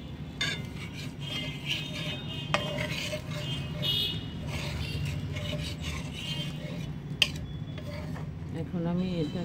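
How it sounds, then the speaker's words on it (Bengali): Prawns stirred in a cooking pot for prawn biryani, a steady scraping and clinking of a spoon against metal with a faint sizzle, close and continuous, with a soft voice briefly underneath. "মাছটা দিয়ে আমি একটু নাড়াচাড়া দিলাম"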